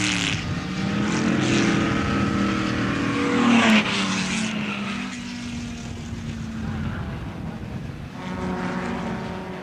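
Touring race cars at the Warwick Farm circuit roar past with rising and falling engine notes, one car swelling loudly and sweeping by, while a commentator talks over the racing.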